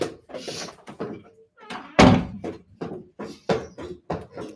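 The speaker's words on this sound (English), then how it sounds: "let's just close this door." A door is pushed shut with a single solid thunk in a home during a workout session, with someone talking before and after it.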